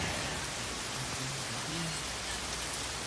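Steady rain falling outdoors on an overcast day in the woods, a soft even hiss of drops with no pauses, faint and constant throughout.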